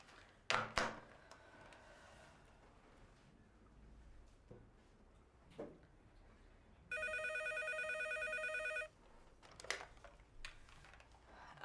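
A telephone rings in one long electronic trill lasting about two seconds in an Egyptian drama scene, loud and clear, with faint rustles and scattered noises before and after it.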